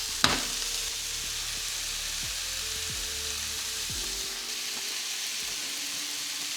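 Garlic sizzles in a hot pan, a loud, constant hiss with a sharp clatter at the start and a few light knocks of a utensil through the frying.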